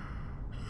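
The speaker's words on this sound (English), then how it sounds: "I'm gonna yawn." A single short, breathy yawn, close and alone, in Saints Row IV: Re-Elected.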